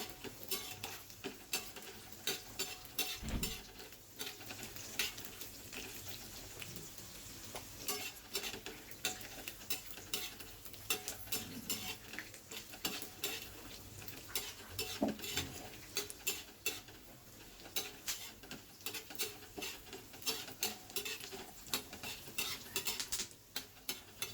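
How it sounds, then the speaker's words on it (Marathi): Peanuts with a little sugar dry-roasting in a pan over a low flame, a faint, continuous patter of nuts rattling and ticking against the metal as they are stirred for a long stretch. "शेंगदाणे भाजत आहे."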